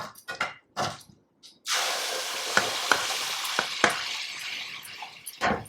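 Rice flour batter is stirred into frying buttermilk chillies: a few scrapes and clinks, then a loud, steady sizzle as the batter hits the hot pan, punctuated by sharp utensil taps against the vessel.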